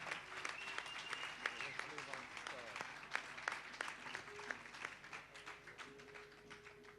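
Applause and scattered claps at a reggae musicians' event in Jamaica, honouring a singer, with talk and faint music running over it throughout.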